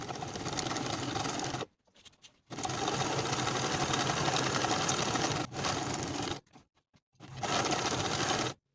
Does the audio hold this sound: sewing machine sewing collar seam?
yes